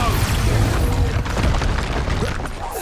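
An explosive Expulsion spell in Hogwarts Legacy, heavy booming blasts layered over a constant rumble of combat, loud and close.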